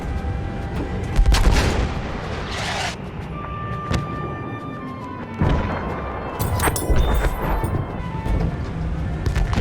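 Heavy artillery bombardment in the video game Battlefield 1, fired from a Behemoth: repeated loud booms and crashing impacts over rumbling battle noise, with bursts of gunfire and sharp blasts scattered through a constant din.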